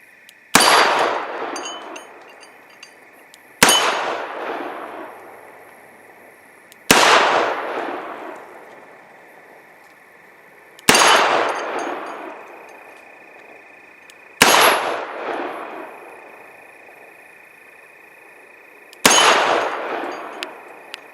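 A Smith & Wesson Model 10 revolver fires double action at targets outdoors: six sharp, loud shots spaced a few seconds apart, each ringing out with a decaying tail and a metallic ping from the struck targets.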